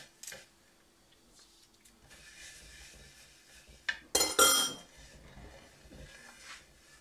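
Semolina is mixed with oil for seffa, with soft scraping followed by a short burst of sharp utensil clinks against a bowl partway through, in an otherwise quiet kitchen with no speech.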